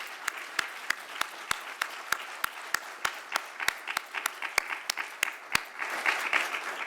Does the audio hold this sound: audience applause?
yes